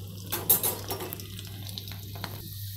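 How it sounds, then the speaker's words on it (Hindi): Garlic cloves sizzle and crackle in a hot pan, with light stirring and a few metallic scrapes against a steady low hum. "सबसे पहले लहसुन की कुछ कलियाँ इस तरीके से इसको अच्छे पकने देंगे"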